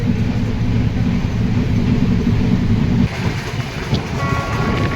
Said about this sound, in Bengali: ট্রেন ফ্ল্যাট ওয়ান থার্টি স্পিডে ছুটে চলেছে